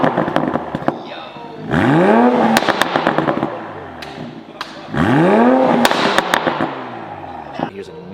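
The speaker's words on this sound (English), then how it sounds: "Here's a clip with the car with just the catback in sport mode." 2020 Toyota Supra in sport mode fitted with only a catback exhaust. Two strong rev sweeps rise and fall, and sharp pops and crackles follow each one. The sound is close and loud, with no one speaking.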